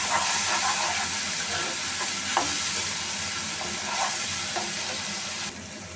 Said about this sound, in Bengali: আদা রসুন বাটা দিয়ে দিচ্ছি। এখানে সব মশলা গুলে রেখেছিলাম, হলুদের গুঁড়া, মরিচের গুঁড়া, ধনিয়ার গুঁড়া।